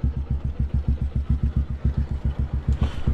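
A small engine idles steadily with a fast, regular chugging pulse, close by and fairly loud, with a faint clatter near the end.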